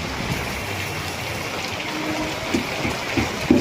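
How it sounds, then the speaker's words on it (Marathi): Heavy rain pours onto a road, a steady broadband wash of falling water with a few louder splashes toward the end, close and continuous without any speech. "पाऊस चालू झाला जोरात एकदम."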